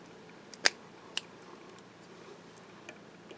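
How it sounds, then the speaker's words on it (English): Small scissors trimming an organic cotton wick give a couple of crisp, sharp snips close by, with a few fainter ticks afterward against a quiet background. "Now I'll break out the smaller scissors at this point."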